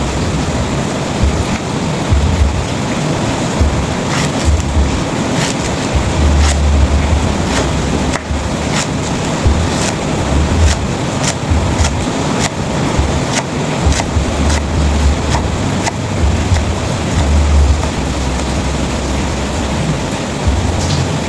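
Heavy rain pours steadily and loudly outdoors, a dense continuous hiss with occasional sharper drips and patters, with no voices.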